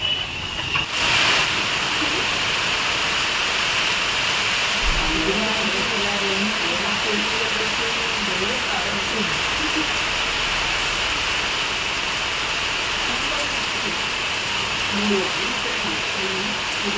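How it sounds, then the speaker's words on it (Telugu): Heavy rain with gusty winds lashes Ambedkar Konaseema district, a steady loud broadband hiss of downpour and wind filling the whole stretch, with a faint low rumble and murmur of voices underneath. "అంబేద్కర్ కోనసీమ జిల్లాలో ఈదురుగాలులతో కూడిన భారీ వర్షం కురిసింది."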